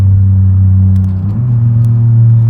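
A BMW E34 525 engine in BeamNG Drive drones loudly and steadily, a deep close rumble whose pitch shifts slightly as the throttle changes.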